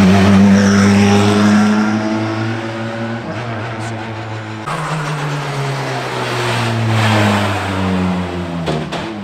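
Four-cylinder rally cars pass close by at a hairpin, engines loud and droning with rising and falling revs, one car handing over to the next partway through.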